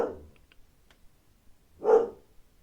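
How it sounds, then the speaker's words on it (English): A small dog barks once at mid-distance in a quiet indoor room, a single short bark following a faint, muffled earlier yelp. "she randomly barks"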